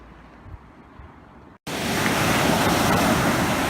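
Surf at Playa Punta Negra beach in Puerto Vallarta: a quieter rushing wash gives way after a brief gap to a loud, steady roar of breaking waves filling the air, with no voices.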